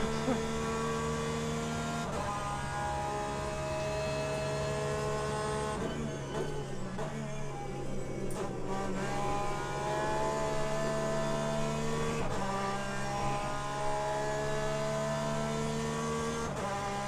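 Race car engine from Le Mans Ultimate, a Porsche in racing simulation gameplay, holding a steady sustained drone with shifting pitch changes and brief dips, loud and continuous throughout.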